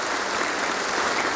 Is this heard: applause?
yes